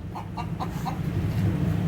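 Chickens at an illegal cockfighting site cluck in a quick run of four short calls, moderately close, over a dense, noisy outdoor background.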